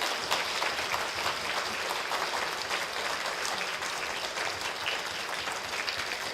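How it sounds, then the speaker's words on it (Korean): A church congregation applauds to welcome the pastor at an evening revival service, steady dense clapping filling the room at even volume throughout, with no talk over it. "박수로 환영해 주십시오"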